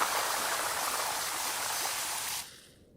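Pressure washer spraying water in the video game PowerWash Simulator 2: a steady, loud hiss of spray that runs without a break and then cuts off abruptly near the end, leaving only a faint residual tail.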